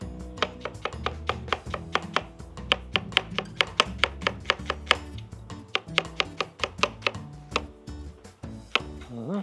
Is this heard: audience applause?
no